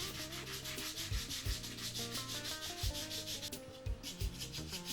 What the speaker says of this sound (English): Very carefully begin sanding the ribs to their final tapered shape.